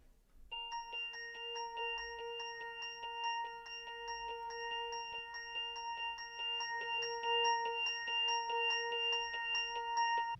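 A microKorg S synth plays forward as a bright, bell-like tone, struck in quick, evenly spaced repeated pulses that continue steadily for about ten seconds at moderate level, with no one speaking.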